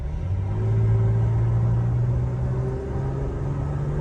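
A Toyota Tacoma with new gears and a tune pulls under acceleration, its engine a steady, close low rumble with a rising drone that holds for several seconds, no voices.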